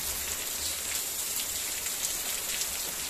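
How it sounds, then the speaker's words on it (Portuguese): Heavy rain pours steadily in Ceará on December 31, a dense, constant hiss with no break and no voices. "Olha só o tamanho dessa chuva."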